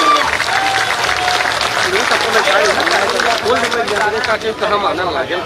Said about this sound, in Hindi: हमारे बिंद के शेर सम्मानित गणेश जी का जोरदार तालियां बजा के स्वागत करने में।